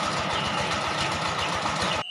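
On a mobile rice milling machine, the engine runs steadily during a test, a dense, rapid, evenly pulsing mechanical chug with loud broadband noise that stays constant, then cuts off abruptly.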